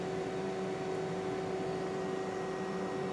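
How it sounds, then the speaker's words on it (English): A Hyundai HPS1100 portable power station powering a Vango Sizzle induction hob at 700 to 800 watts, indoors: steady electrical hum with a fan-like whir and a constant tonal drone, running evenly throughout without change. "You can hear the power station kicking in again."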